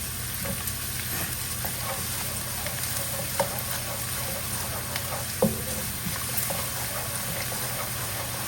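Diced ginger and garlic sizzling in a pan, a quiet continuous crackling fry with occasional soft clicks and stirs, no one speaking.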